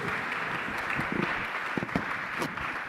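A conference audience at a blue and space economy panel claps for the panelists, a dense, sustained round of applause with a few sharper individual claps and faint knocks poking through near the end.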